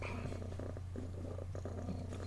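A cat purrs in a steady, low rumbling rhythm close by, with a constant hum underneath.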